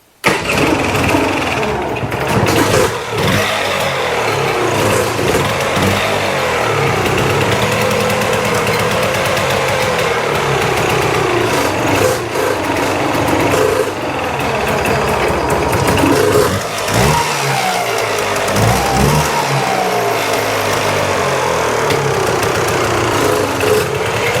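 A Polaris Sportsman ATV engine runs roughly after being restarted, with a loud, close, buzzing rattle that surges and sags unevenly for over twenty seconds, struggling to settle into an idle.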